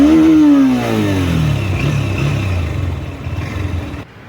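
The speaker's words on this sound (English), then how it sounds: "you noted the exhaust sound" A 2024 Honda motorcycle engine, Hornet 2.0 or CB200X, revs up sharply then settles into a throaty, rumbling idle with a sporty exhaust note, close and loud, fading slightly at the end.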